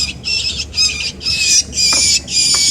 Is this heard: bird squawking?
yes